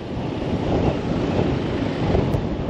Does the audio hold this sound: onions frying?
no